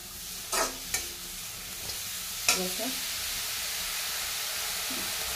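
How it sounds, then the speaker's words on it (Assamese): Chopped fiddlehead fern stir-fried in a pan, a steady sizzle and hiss throughout, broken by a few sharp scraping stirs and clatters near the start and midway. "এতিয়া ধুনীয়াকৈ লৰাই লৰাই এনেকৈ ভাজি লওঁ, তেতিয়া ঢেকীয়াৰ পিছল ভাতটো কেতিয়াও নহয়।"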